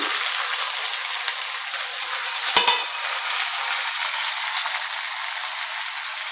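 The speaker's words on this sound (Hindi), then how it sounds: "तेल हमर गरमा गेलै। आब एहिमे बोरा दऽ दै छी।" Beans dropped into hot oil for an aloo-beans sabzi, a continuous bright sizzle with a sharp clatter and stir about a third of the way through, then steady frying hiss.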